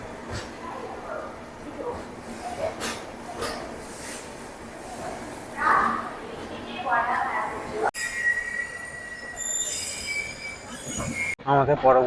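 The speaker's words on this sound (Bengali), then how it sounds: "আর আমরা এসে পৌঁছলাম বিজয়নগরম স্টেশন" The Bengaluru-Howrah Duronto Express rumbles into Vizianagaram station, with the steady roar of the moving train giving way to high, piercing wheel squeals and brake screeches as it slows; faint voices are heard in the background.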